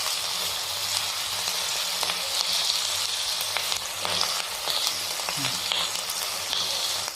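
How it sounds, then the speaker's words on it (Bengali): Potatoes and spring onions frying in a pan give a steady, close sizzle with occasional stirring scrapes, continuous and even throughout with no voices. "পেঁয়াজ কলি খুব নরম বলে খুব কম সময় ভাজা হয়ে যায়"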